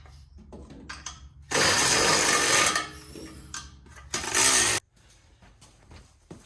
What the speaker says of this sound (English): So now I'm gonna tighten them 2 bolts down on top